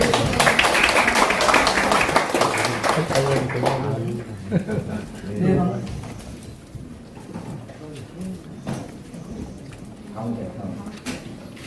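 An audience at a political forum applauding a speaker's welcome, a steady wash of many hands clapping that fades after a few seconds into a quiet room with murmuring and scattered claps.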